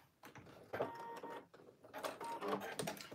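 A sewing machine back-stitches a seam on a tee shirt in a few short, quiet bursts of rapid mechanical chatter, separated by brief pauses.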